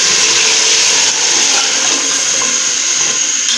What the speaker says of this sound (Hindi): और अभी हम इसमें हाफ़ जग पानी का ऐड करेंगे।